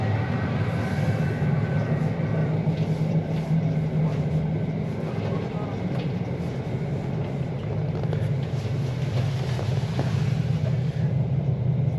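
A train pulls out on the Vilnius to Szczecin route, heard from inside the carriage as a continuous low rolling rumble and hum, steady and moderately loud throughout.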